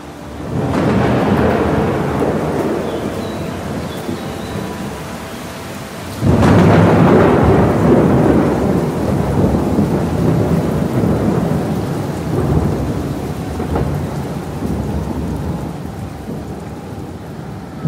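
A violent easterly storm with torrential rain pours down steadily, thunder cracking loudly partway through and rumbling on beneath the dense, continuous downpour.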